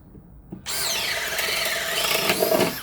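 A power drill fitted with a 5/8-inch bit bores into wood, starting abruptly with a loud, steady whine and squealing grind that holds for a couple of seconds close by.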